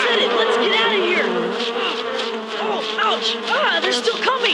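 A swarm of wasps drones in a dense, continuous buzz, thick and close, with wavering pitch sweeps and layered wing whine that swells and dips without a break.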